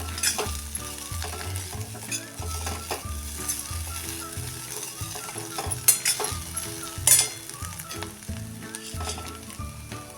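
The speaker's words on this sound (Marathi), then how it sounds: "आता हे चांगलं परतून घेऊया" Cumin potatoes with chili powder sautéing in a pan, a dense continuous sizzle with steady stirring and occasional metallic clinks of a spoon against the pan, close up.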